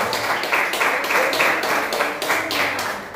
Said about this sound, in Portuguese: Pode aplaudir, aleluia.